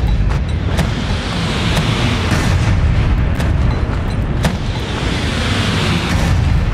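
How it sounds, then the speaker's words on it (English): Light autocannon fire in the MechWarrior 5 mech combat game, a series of sharp booming shots at irregular intervals over a constant loud rumbling battle background, with no talking. "I'm gonna fire light autocannon at the commando"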